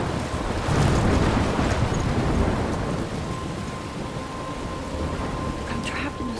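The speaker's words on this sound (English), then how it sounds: "I'm trapped in a storm?" A storm rages in the video game Life is Strange: loud, blustery wind roars over crashing waves and rolling thunder, a dense, continuous roar that swells early and then eases slightly.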